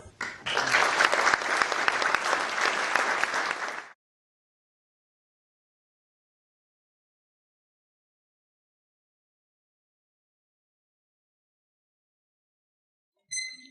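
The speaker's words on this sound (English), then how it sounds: "I would now please ask you to join me in a round of applause for Francesca." An audience at a Rotary youth public-speaking contest in Portsmouth Guildhall breaks into a burst of applause for a young speaker, loud and even for about four seconds, then cuts to silence.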